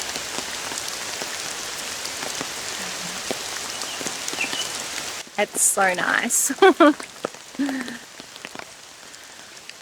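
Steady rain falls on trees with a dense, close patter of drops throughout, and someone talks softly over it partway through.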